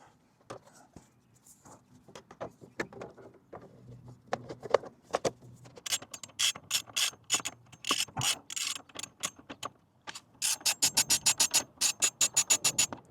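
Rapid ratchet clicks come close up in bursts, growing into fast regular runs, as bolts on a Yamoto skid plate faceplate are tightened on a Honda CRF300L Rally motorcycle.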